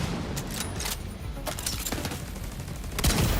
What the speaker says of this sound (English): God, there are rapid fire snipers back there